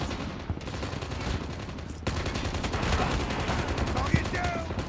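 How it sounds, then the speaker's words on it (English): Rapid automatic gunfire from the Call of Duty Mobile video game, with a fire-type gun in play, cracking in dense overlapping bursts throughout, loud and continuous with brief tonal game effects near the end. "Look at the fire gun thing that they put in Call of Duty."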